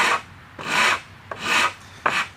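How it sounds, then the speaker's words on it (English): A hand rasp files a bevel on a pine board in a woodshop, with four separate raspy, scraping strokes, each lasting about half a second, close and clear, and no talking. "I really do like these rasps."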